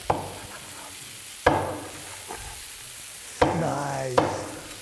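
Chicken sizzling steadily in a pan on a DISC-IT disc cooker, with several sharp scraping stirs of a utensil breaking through the frying hiss, close and fairly loud, no talking.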